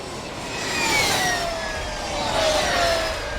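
Electric racing motorcycles whine past with a rising and falling high-pitched electric hum, two swells, over a wash of background noise.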